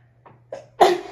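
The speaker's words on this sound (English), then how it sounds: "Oh, I'm gonna sneeze." A short sneeze preceded by two quick inhaled breaths, ending in a loud burst with no other talk around it.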